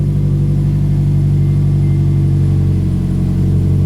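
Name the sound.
Subaru boxer engine revving with upgraded exhaust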